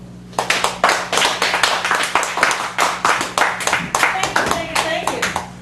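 Small audience at an open mic poetry reading in a cafe gallery clapping, close and sharp, a dense burst of hand claps that carries on steadily for several seconds with faint talk beneath.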